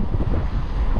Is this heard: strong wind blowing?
yes